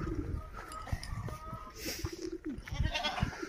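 Goats bleat on a village farm: several short, wavering calls come at irregular intervals, close and clear, with birds chirping and someone speaking in the background.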